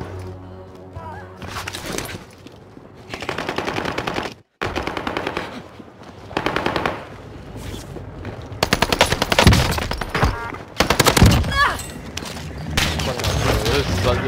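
Automatic gunfire in Call of Duty Warzone, rapid bursts of shots repeating across the scene with brief pauses, loud and close, with a player talking between bursts.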